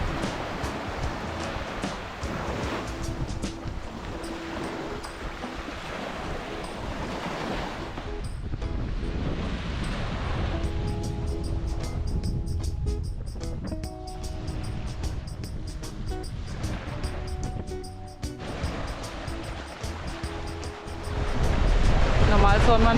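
Ocean waves washing onto the beach at Cape Finisterre, a steady broad roar of surf with wind buffeting the microphone, swelling louder toward the end.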